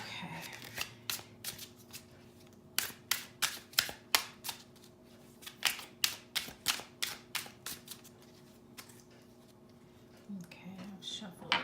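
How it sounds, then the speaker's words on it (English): Tarot cards being shuffled by hand in a quiet room, a series of crisp riffling bursts in quick rhythmic runs with short pauses between, close and moderately loud. "Okay, I've shuffled these cards."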